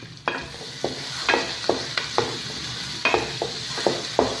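Big onions with salt sauté in a pan, making a soft sizzle broken by a dozen or so sharp, close scrapes and taps of a spoon stirring at an uneven pace.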